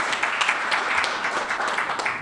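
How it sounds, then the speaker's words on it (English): A small crowd claps together, a dense patter of applause that holds steady for a couple of seconds. "for the record, Brian got the loudest clap"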